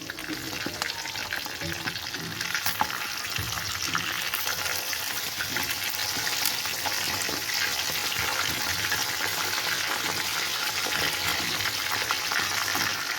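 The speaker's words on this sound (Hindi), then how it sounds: "अभी मैं फ़िश फ्राई कर लूँगी" Large fish pieces frying in hot oil without any flour or gram-flour coating, a continuous close crackling sizzle with scattered sharp pops and faint clatter.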